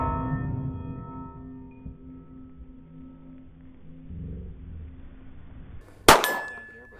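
A Bulgarian Makarov PM 9x18mm pistol round hits a steel gong target with a single sharp, loud metallic clang near the end. A low ringing hum fills the stretch before it.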